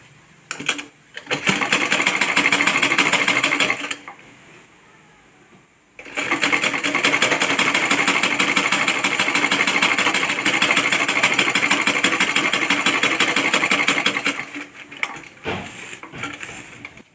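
Close, steady whirring hum of a sewing machine stitching the side seam of a kurti, running in two long bursts separated by a brief pause, with a few short taps before and after.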